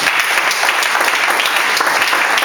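A church congregation bursts into dense, loud applause that fills the space evenly and continues without a break.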